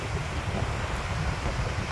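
Strong wind blowing over St. Albans Lake in Vermont, a steady loud roar with rumbling microphone buffeting and no voices.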